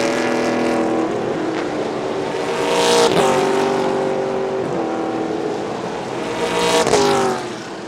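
A Mustang-bodied race car on a roll-bar chassis roars past at a 2019 TSS race, engine note rising and falling loudly through the whole stretch, with another car swelling in near the end.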